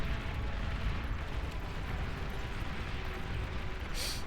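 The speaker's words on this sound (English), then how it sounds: "that artillery is dealing some friendly fire" Artillery fire in the Beyond All Reason strategy game, a continuous dense rumble of overlapping booms and blasts at steady loudness, with no voices.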